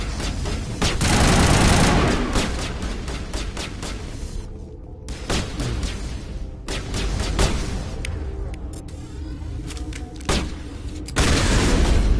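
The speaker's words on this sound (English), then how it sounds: "Love a shotgun that works." Shotgun fire in Mass Effect: repeated sharp blasts in quick succession with a few brief pauses, loud and close amid layered combat booms.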